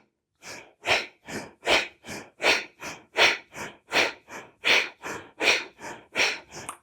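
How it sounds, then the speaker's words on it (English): Rapid, rhythmic breathing in and out through the nose, about a dozen sharp, evenly spaced breaths close to the listener with no talking. "we begin with inhale through the nose and exhale"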